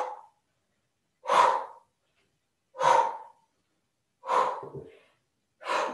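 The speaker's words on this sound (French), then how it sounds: "Et vous expirez profondément." Deep, slow exhalations during a Qi Gong breathing exercise, four breathy, near puffs of air separated by silent pauses, each swelling and fading softly.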